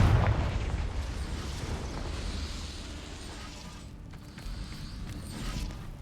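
A Confringo fire spell bursting in Hogwarts Legacy, a deep booming blast that opens loud and rumbles away over several seconds, with a faint crackling swell and softer rumble returning near the end; no talking.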